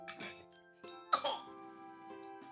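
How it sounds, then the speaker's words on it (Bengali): A young girl coughs in a few short, harsh bursts indoors at home, the coughs standing out over faint background tones. "শুধু কাশছে আমার মেয়েটা"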